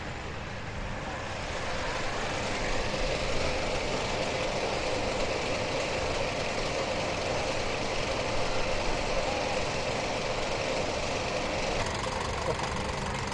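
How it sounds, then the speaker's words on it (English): A caterpillar ride at Lightwater Valley theme park gives off a steady, loud rumbling clatter that holds continuously without a break, like rolling wheels on track. "you can't come to a theme park and not go on the caterpillar ride, can you?"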